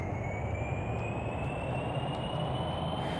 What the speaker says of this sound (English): It's going to take just a moment for these engines to spool up to full lift.